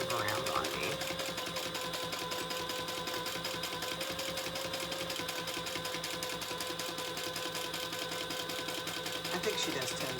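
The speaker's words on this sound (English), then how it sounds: "I am going to just baste them closed with 1/8 of an inch" A sewing machine bastes the fabric sides of a rounded makeup bag closed, running at a fast, even stitching rhythm with a steady mechanical hum and rapid ticking from start to finish, close and clear.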